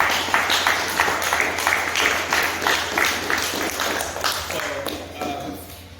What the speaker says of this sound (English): Make sure, boys, you guys right now just clap it up to your parents.